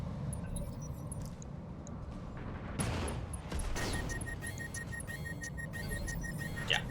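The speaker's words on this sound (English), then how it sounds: "They're shooting at me." Enemy gunfire in a vehicle combat video game, with shooting aimed at the player's machine: a dense, steady wash of rapid shots and clattering impacts at moderate volume, with a few sharper bursts standing out.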